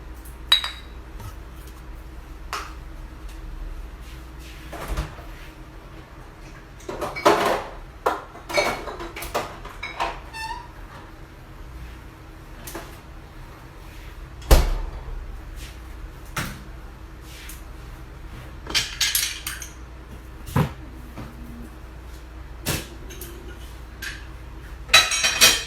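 Kitchen items being put away at home: scattered clinks of dishes and cutlery, knocks of a cupboard door opening and closing, and occasional drawer bumps, spread out over a quiet room with no talk.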